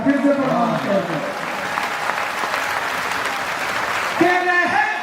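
Audience applause at an Urdu poetry mushaira in Maharashtra, a steady, dense clapping from a large crowd that runs throughout, with someone speaking over it at the start and again near the end.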